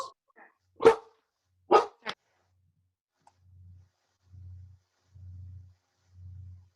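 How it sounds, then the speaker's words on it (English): A dog barks three times in quick succession, sharp and close, followed by a run of soft, low, evenly spaced pulses. No voices can be heard. "is that a doggy?"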